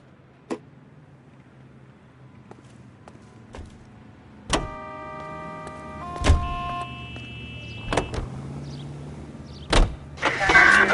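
A car in a video game shuts its door, then sits idling with electronic chimes while more door thuds and clicks follow, the engine beginning to rev at the end.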